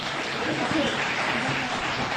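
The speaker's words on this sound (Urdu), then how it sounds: "ان دونوں ٹیموں کے لیے زوردار تالیاں" Loud applause from an audience cheering two competing teams at a Bait Bazi poetry contest final in Aurangabad, India, a dense steady clatter of clapping filling the moment.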